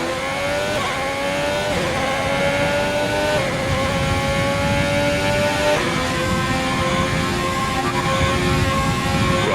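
High-revving Formula 1 car engine from the F1 2020 racing game, screaming continuously with rising pitch sweeps and sharp gear-shift drops, loud and steady throughout with no talk.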